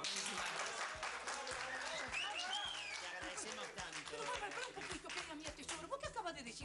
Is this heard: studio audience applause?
yes